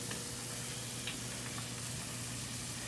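Barbecued meat sizzles on a grill after being set bone side down for Sunday dinner, a faint, steady crackle throughout.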